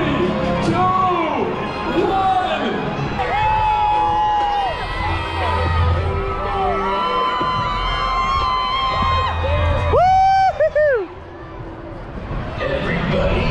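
A sold-out baseball crowd in Sugar Land roars and whoops at a ball game, with loud shouts and high calls rising over steady crowd noise and voices nearby.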